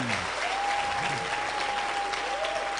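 A crowd at a road show event claps for the sponsor MTN, an even wash of applause at moderate distance with a faint tonal hum running underneath.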